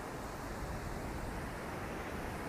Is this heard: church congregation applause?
no